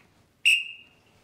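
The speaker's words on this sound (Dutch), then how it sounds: "Als we beginnen te marcheren, alvorens dat we in de houding gaan staan, fluit ik." A single short, loud whistle blast from a commander before a ceremonial march, sharp at the start, then held as a fading tone, with a quiet background.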